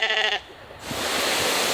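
A sheep in a churchyard gives a single nearby bleat, short and wavering, before a louder wind-like rush of noise takes over.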